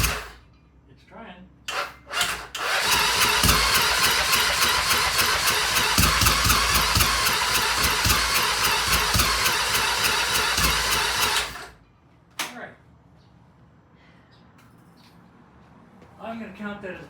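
Motorcycle engine on a first start attempt after a rebuild, catching and running roughly with a dense rapid chatter for about nine seconds before cutting out, with brief bursts before it and quiet speech-like sounds around it.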